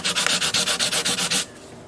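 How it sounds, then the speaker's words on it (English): Rapid back-and-forth hand sanding of a custom 12-string dreadnought guitar's finish with 220 grit sandpaper, about ten even scratchy strokes close to the mic, then abruptly stopping into quiet room tone. "I'm kind of sanding through really fast."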